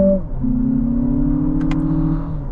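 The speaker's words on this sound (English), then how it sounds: "it's pumping in fake engine sound from the speakers" Synthetic engine sound piped through the cabin speakers of a 2026 Lexus RX500h F Sport Performance in manual mode, a steady droning rev that climbs gradually with a brief shift blip, loud and close with no talking.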